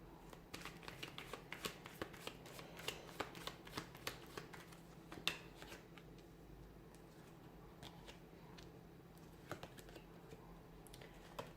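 A tarot card deck is shuffled and handled close by, with soft riffling and quick flicking taps of cards in an irregular, quiet patter.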